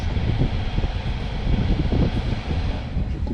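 A steady rushing whoosh of air from a Tesla's ventilation fan, constant and fairly close inside the car, with a low rumble underneath and no talking.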